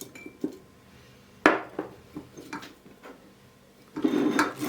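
Chickpeas and a few hot peppers dropped into a glass pickling jar for fermented cabbage pickle, giving several sharp clinks and rattles at irregular intervals, with a busier clattering burst near the end.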